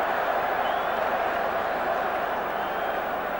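A large football crowd at the 1978 FA Cup semi-final between Ipswich and West Brom keeps up a steady, distant roar as it appeals for a penalty. The crowd noise is even and sustained, and a commentator's voice is faintly present.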